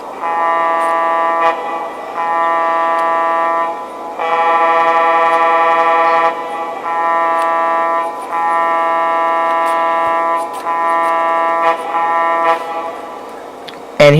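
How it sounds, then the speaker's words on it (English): A Lionel JLC GG1 model train horn sounds in repeated sustained blasts with short gaps between them, loud and close. "Alright, here's the horn."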